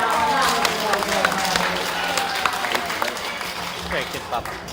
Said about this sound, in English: You can give him a big clap for that one.